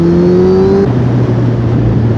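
A Kawasaki Z1000 motorcycle engine pulls hard in a low gear, a loud, steady droning tone that shifts pitch partway through.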